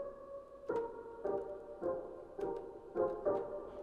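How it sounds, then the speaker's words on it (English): Short plucked string notes repeat at a steady pace, each a quick bright attack that fades fast, moderately loud with no voices. "So it's kind of a string. It's an orchestral string."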